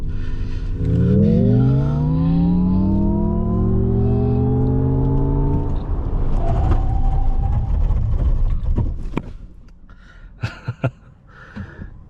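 An MG Cyberster electric sports car brakes hard from 100 to 0 on a circuit. A loud rising electric motor whine gives way to a rumbling slowdown, then quiet with a few sharp clicks and knocks at the end.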